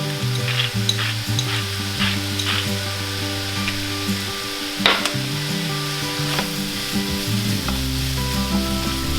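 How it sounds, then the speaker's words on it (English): Sausage and onions with chili powder, paprika, cumin and salt sizzle steadily in a pan, a close, continuous frying crackle with occasional stirring clicks and no talk. "Now I'm just gonna let this sausage cook all the way through and let those onions get really softened."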